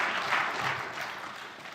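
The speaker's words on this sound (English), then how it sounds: "you can clap. Do it." A congregation claps during a sermon on renewal, a short burst of dense applause holding steady and then slightly tapering.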